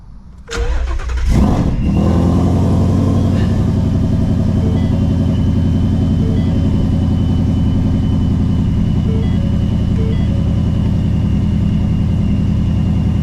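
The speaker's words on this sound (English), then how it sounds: "let's get a cold start" A car engine cold-starts loud and close: a short cranking burst, then the motor catches and settles into a steady, rumbling idle that continues without pause, with no talk over it.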